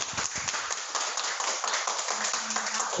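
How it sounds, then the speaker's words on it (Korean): A seminar audience applauds a professor at the close of a two-hour talk, a steady spread of clapping that holds through the whole stretch at moderate level with no voices over it. "김성리 교수님한테 박수 한번 맞추겠습니다"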